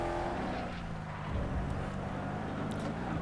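A classic Formula 1 race car engine in TOCA Race Driver 3 drones at steady high revs, a continuous mechanical roar that stays loud throughout.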